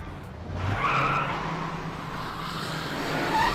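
The tires of a Ford Mustang Mach 1 squeal and skid during a car chase in a James Bond film, with a sustained screech over engine noise that rises briefly near the end.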